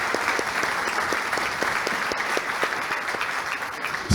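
An audience applauds a speaker at a panel discussion, an even, dense round of clapping that fills the moment at moderate volume without any speech.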